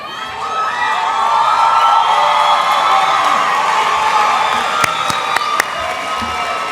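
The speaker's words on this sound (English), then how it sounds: "Un aplauso, por favor." Graduation ceremony audience at a Latina/o graduation celebration breaking into loud sustained cheering and clapping, a dense crowd roar with whoops and a few sharp claps near the end.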